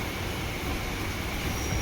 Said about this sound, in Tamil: 11:59 சென்னை பீச் ஸ்டேஷன்ல இருந்து ட்ரெயின் எடுத்துட்டாங்க.